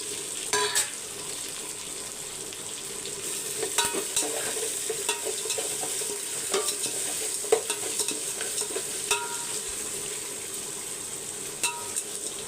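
Curry leaves, dried chillies and garlic sauté in a pan with a continuous bright sizzle, broken by scattered stirring scrapes and taps of a spoon against the pan, close and steady throughout.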